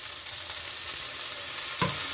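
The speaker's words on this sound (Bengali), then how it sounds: "পেঁয়াজ আর ঢেঁড়স হালকা করে ভাজা হয়ে গেছে" Onion and okra frying in a pan, a steady close sizzle with stirring scrapes, a sharper clatter near the end and no voices.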